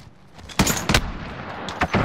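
Shotgun blasts in a competitive video game gunfight, four sharp loud reports spaced unevenly over about two seconds, heard close with a muffled rumble of game ambience between shots.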